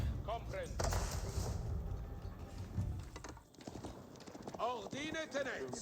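Royal Knights cavalry in Age of Empires 4 galloping on a battlefield, rapid clip-clop hoofbeats with horse whinnies and distant combat sounds, under a commentator's talk.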